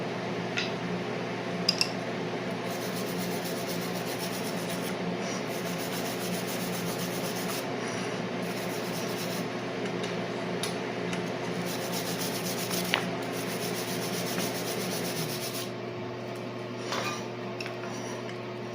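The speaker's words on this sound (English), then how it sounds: "Let me grab a little wire brush. We'll get this thing cleaned up and see what it looks like." Wire brush scrubbing clean a TIG-brazed fitting on a cast iron hydraulic oil cooler flange, a steady close rubbing scratch that runs continuously with faint ticks over a low shop hum, no talk.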